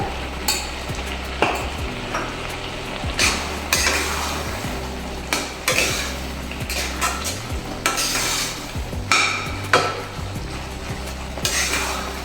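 A carrot barfi mixture with cashew powder and cardamom cooks over a low flame while a spoon stirs and scrapes the pan in repeated clinks, over a continuous close sizzle.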